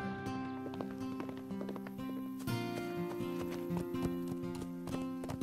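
Cartoon hooves of a wild horse clip-clop in a steady run of light taps, set under continuous background music with no voices.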